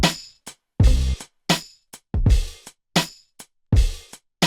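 Dry hip hop drums play without drum bus processing, a sparse pattern of punchy kicks and sharp snare and hat hits, each separated by short silences, close and upfront.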